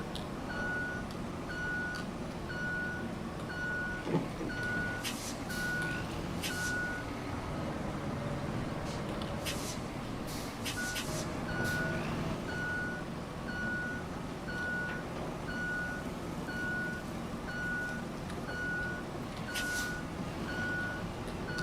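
Steady reversing beeps pulse at an even rhythm from a truck backing up in the video game RoadCraft, heard over a constant engine rumble with occasional sharp clanks and hisses.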